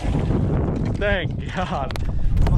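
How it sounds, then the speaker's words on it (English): Strong gusty wind buffeting the microphone while fishing for bass from a boat on a lake, a loud rumbling roar throughout, with a voice speaking briefly over it. "it just got real windy, so we're just spinning around in here"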